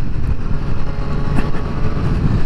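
A Triumph Street Triple RS motorcycle engine, still being run in, revs gently in a steady, loud, close drone with mild swells, no voices over it.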